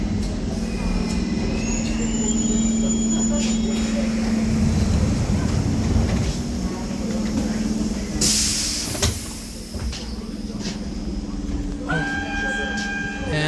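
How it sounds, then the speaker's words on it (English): A Budapest tram rolls in with a hissing rumble, then a loud burst of hiss from brakes or doors, followed by high metallic wheel squeals near the end. "On the bright side, my tram is here."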